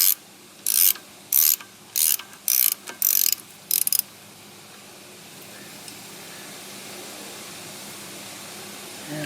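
Ratchet fitted with a 9/16 inch socket loosening a bolt on a Volvo Penta DP-SM drive, giving about seven quick, loud clicking bursts close by, then fading into quiet background hiss.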